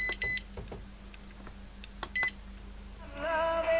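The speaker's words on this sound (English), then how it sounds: "You can turn the beep off." Several short electronic beeps from a PL-398 radio, spaced irregularly with faint clicks between, followed by music starting quietly.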